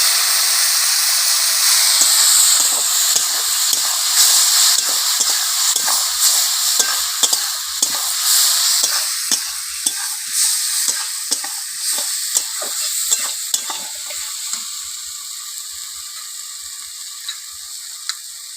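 Spices frying in a pan just after water is added, for a fish-head chachchari: a loud hiss that gradually fades, with a run of quick, rhythmic scraping strokes as a utensil stirs the pan.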